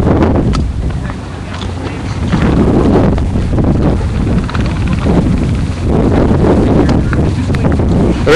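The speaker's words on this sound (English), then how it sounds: "A little windy, a little bit cold and rainy" Strong, steady wind gusts across an outdoor charity golf event on a cold, rainy day, a loud continuous roar buffeting the microphone with surging swells and no clear talk.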